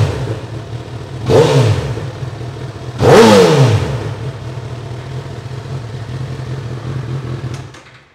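A Honda CB1000R motorcycle engine runs at a steady idle and gets two sharp revs in quick succession that rise and fall. It then settles back to idle before cutting off at the end, loud and close, with no talking.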